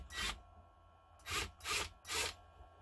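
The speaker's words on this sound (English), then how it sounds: "This is a little impact driver. This one happens to be a Ryobi 18 volt. But it's just so good for loosening tight screws." A Ryobi 18-volt impact driver loosens tight screws while a Singer Featherweight sewing machine is being restored, giving four short, loud buzzing bursts: one, a pause, then three in quick succession, with no talking.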